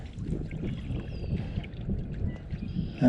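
An Old Town Next canoe glides across the water, a low, soft wash of water and light wind rumble close by, with no talking.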